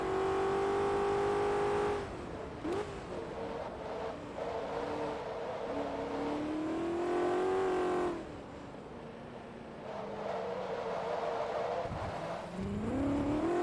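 A Shelby Cobra in Forza Motorsport 2 drives under steady engine drone, with revs climbing and dropping through shifts, loud and continuous, plus a brief tire squeal.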